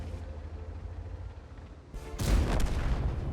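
A tank cannon fires in World of Tanks, a sudden loud boom that breaks in after a quiet stretch, with a rumbling tail and battle noise following.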